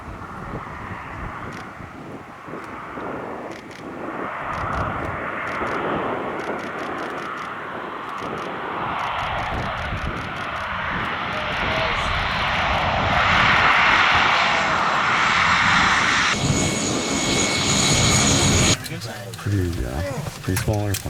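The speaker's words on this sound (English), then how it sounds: "Here comes the plane that's going to take us to Savuti." A small light airplane approaches and arrives at the Camp O bush airstrip at the edge of the delta in Botswana, its engine drone building steadily and loud over wind buffeting the microphone, with a change in tone near the end.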